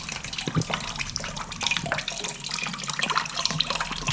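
Water poured from a jug through the radiator of a 2008-2019 Yamaha R6 motorcycle during a coolant flush, a close, steady splashing and gurgling stream with small irregular drips and bursts.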